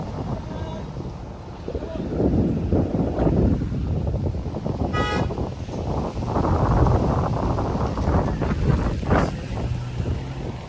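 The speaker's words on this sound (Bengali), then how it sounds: "বাইরে বাতাস আছে" Wind buffets a microphone outdoors on a hill road at dusk, a loud rumbling roar that surges and eases, with brief higher tones and faint background noise.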